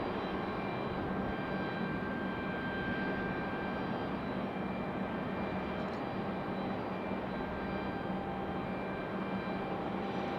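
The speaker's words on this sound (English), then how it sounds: "Some turn and burn action for this 737." Southwest Airlines Boeing 737-700 jet airliner at Raleigh-Durham airport, a steady loud broadband jet engine roar holding continuously throughout with no voices.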